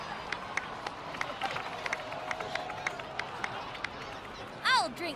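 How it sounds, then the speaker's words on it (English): A crowd in a Genshin Impact game scene gives a round of applause, light scattered claps and cheers at moderate distance, with a brief chiming sound near the end. "please give another round of applause for them"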